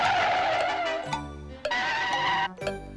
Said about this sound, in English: Screeching brakes.